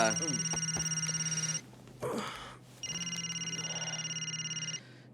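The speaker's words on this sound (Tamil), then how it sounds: "ஃபோன் எடுறா." A telephone rings in two loud electronic bursts separated by a short pause, with a brief voice and rustle between them.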